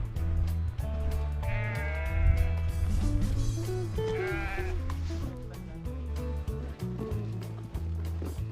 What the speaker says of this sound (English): Oh, there is sheep.